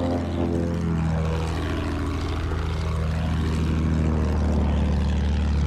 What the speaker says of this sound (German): Flugzeug in Sichtweite!